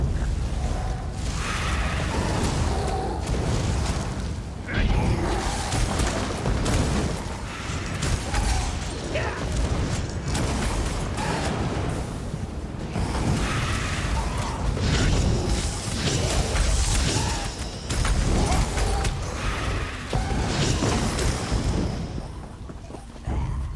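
Fire staff spells cast in Elder Scrolls Online against feral Bosmer, heard as dense, continuous whooshing bursts and fiery impacts layered over loud combat noise throughout.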